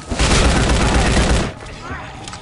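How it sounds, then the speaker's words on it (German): Rapid bursts of M16 assault rifle fire in the zombie shooter game Land of the Dead, loud and dense for about a second and a half, then cutting off to quieter game ambience. "unsere neue Waffe, die M16."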